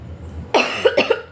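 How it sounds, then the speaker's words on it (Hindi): Harsh coughing from someone irritated by chili fumes after a chili-burning nazar ritual at home: a short series of four close, loud coughs following a quiet moment. "बहुत ज़्यादा खांसी आ रही है"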